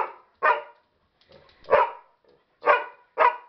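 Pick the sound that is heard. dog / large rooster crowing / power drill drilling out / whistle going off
dog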